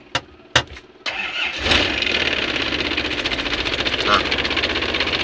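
A diesel car with contaminated fuel cranks briefly after a few clicks, catches and settles into a rough, shaking idle that pulses unevenly; someone speaks a single word before the start.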